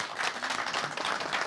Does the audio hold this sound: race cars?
no